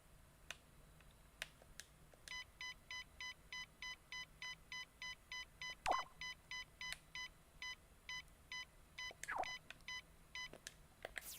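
Alarm clock in LittleBigPlanet 3 playing a steady electronic beeping pattern, evenly spaced pulsed tones repeating for about nine seconds, fairly quiet, with a few soft clicks around it.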